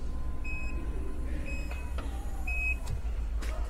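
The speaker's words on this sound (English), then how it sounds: "Automatic boot door lift." A chiming warning tone repeats while a motor hums and whirs as the tailgate of a 2015 Nissan Patrol rises, with a few clicks and a soft thud.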